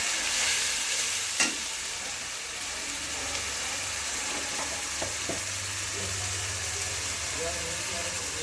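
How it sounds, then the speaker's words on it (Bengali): Potatoes frying in a pan for a prawn and spinach curry, a steady broadband sizzle with a low hum underneath and a few clicks of a utensil, continuous throughout. "আলুগুলো ভালো করে ভেজে নেব"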